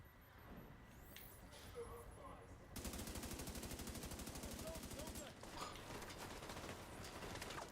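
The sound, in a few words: enemy machine gun fire in the video game The Division 2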